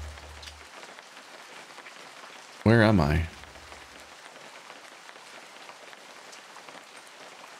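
Steady rain patters across a surface throughout, with a brief nearby voice speaking over it partway through.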